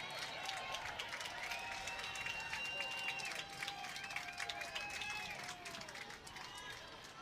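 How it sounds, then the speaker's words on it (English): Stanford fans applaud from the stands at Kagan Stadium during a women's college soccer match, a soft distant crowd patter beneath a commentator talking over it. "Nice round of applause from the Stanford partisans here at Kagan Stadium"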